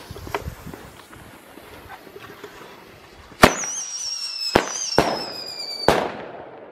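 Thunder Kong Powerpack fireworks go off two at once outdoors, a series of sharp, loud bangs and crackling reports with a whistling, screeching tone between blasts.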